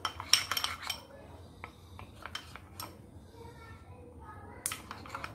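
A spoon clinks and scrapes quietly against a bowl while stirring melted dark chocolate, soft intermittent taps and rubs, with someone talking in the background.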